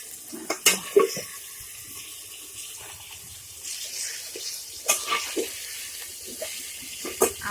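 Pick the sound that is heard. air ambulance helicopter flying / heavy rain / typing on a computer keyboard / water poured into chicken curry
water poured into chicken curry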